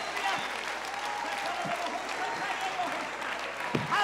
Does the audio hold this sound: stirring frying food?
no